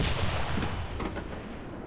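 A tank cannon in the WW2 shooter game Enlisted fires at a jeep: a loud boom opens the clip and a heavy rumbling roar carries on to the end, with no talking.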